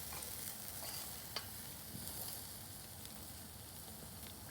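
Half-pound burgers sear over charcoal on a modified Weber Smokey Joe grill, a steady close sizzle and crackle with a few faint pops and no talk.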